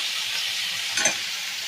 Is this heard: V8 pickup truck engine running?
no